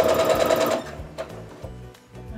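A sewing machine stitches a quilt block seam, with a fast buzzing whir close up for under a second before the motor slows and stops, followed by a few softer clicks and handling noises.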